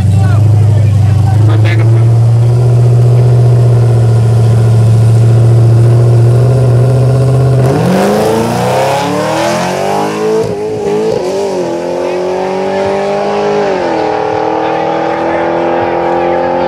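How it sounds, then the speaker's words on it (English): Street cars at a drag-racing event at Bowman rev hard nearby, a loud steady engine drone giving way to rising, sweeping revs as cars launch and pull away, with people talking and shouting close by. "Street car out here racing."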